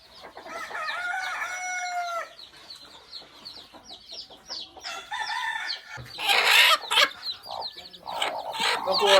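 Chickens cluck and chirp close by at a country hen farm with newly hatched chicks, and a rooster crows clearly in the background.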